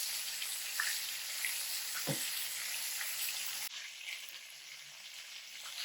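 Floured chicken cutlets fry steadily in a pan of hot oil, a continuous bright sizzle with a soft thump partway through as a piece is set down, close and without talk.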